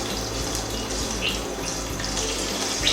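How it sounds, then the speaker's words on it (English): Whole spices popping and sizzling in a hot pan of oil for lime pickle, a steady crackling hiss with faint scattered pops, heard up close and continuous. "we're going to stir these round until they've sort of all popped."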